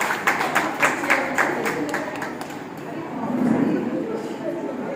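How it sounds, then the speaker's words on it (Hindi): At a women's association gathering, an audience claps in a brisk, even rhythm of distinct hand claps for a couple of seconds, then the clapping fades into a low murmur of the crowd. "जोरदार तालियों से भी उनका भी स्वागत करें।"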